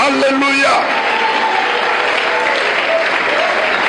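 A church congregation applauds and cheers continuously, a dense, steady roar of clapping with voices mixed in. A preacher's talk runs beneath it.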